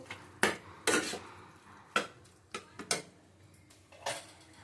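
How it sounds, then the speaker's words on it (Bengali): Chopped tomato and minced chicken stirred in a pan with a spatula: about seven separate scraping clanks at uneven intervals, close but fairly quiet, with no steady sizzle evident and no talking. "টমেটো কুচি দিয়ে দিলাম দিয়ে ওটা ভালো করে কষিয়ে নেব"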